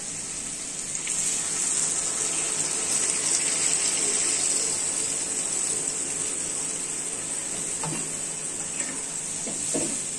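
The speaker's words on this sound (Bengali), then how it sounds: "জল দিয়ে দিই।" Water pours steadily into a pan of potato curry (alur dum), a continuous splashing hiss that runs throughout at moderate level, with a few faint clinks near the end and no talk.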